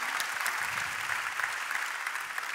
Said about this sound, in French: On peut applaudir toutes ces organisations,